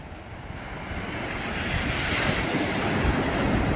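Sea waves hitting a fishing boat out at sea, a loud continuous roar of surf and rushing water with wind buffeting the microphone, steadily building without speech.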